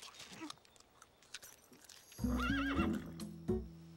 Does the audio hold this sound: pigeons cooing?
no